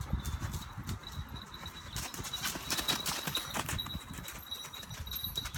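A horse walks during groundwork, hooves thudding on the ground in a steady, moderately close rhythm against light background noise, with no talking.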